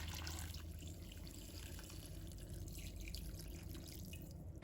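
Clean water poured into a pot over chicken legs with sliced ginger, a steady close splashing pour running continuously without pause.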